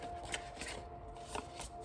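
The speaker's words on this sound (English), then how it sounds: "It's kind of an awful shuffle." Tarot cards being shuffled by hand, a soft, quiet riffle of papery flicks and light taps lasting a moment, with no talking over it.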